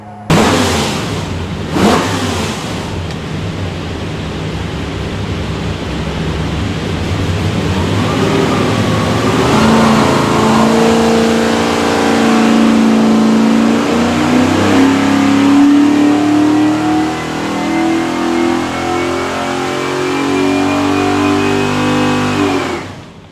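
A stacked 427 cubic inch V8 from a '67 Mustang revs on a dyno, climbing through a long loud pull with rising engine pitch, then dropping off near the end, with no talk over it.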